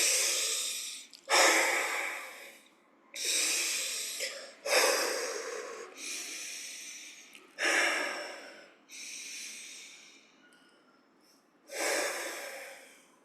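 Slow, deep breaths drawn in and let out one after another, each a long airy rush with a pause between, close up and fairly loud with no voice over them.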